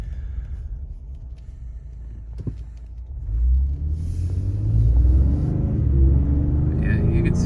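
Ford F-150 Raptor pickup, a roughly 6,000-pound truck, accelerates from inside the cab; a low engine rumble swells after a few seconds and stays steady, with a faint click or whir partway through.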